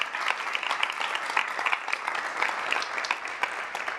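A large conference audience of about 350 people applauds at an urban green building conference, dense sustained clapping filling the room for several seconds.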